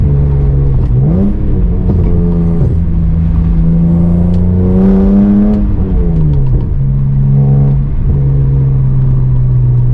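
A BMW E46 M3 engine accelerates hard and loud from the cabin, its pitch climbing through the gears with brief dips at each shift, a strong continuous roar throughout.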